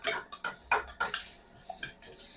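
Stir-frying kaprao holy basil in a pan, with a spatula scraping and clattering against the metal in several sharp strikes, then softer stirring and a low sizzle, close up with no voices.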